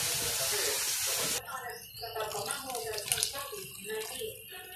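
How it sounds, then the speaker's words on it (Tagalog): Water gushes steadily into a cooking pot for a fish dish in a rural Philippine kitchen, a loud hissing pour lasting about a second and a half before people start talking nearby. "Dagdagan ng konting tubig."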